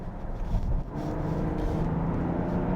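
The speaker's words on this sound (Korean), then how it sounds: "이제는 스포츠 모드를 놓고 한번 가속을 해볼게요." A Genesis GV80 diesel accelerating in sport mode from around 50 km/h, a low engine drone rising steadily inside the cabin, fairly quiet and without talk.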